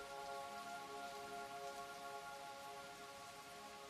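Gentle nighttime rain under a full moon patters on steadily, a faint, even hiss with no talking.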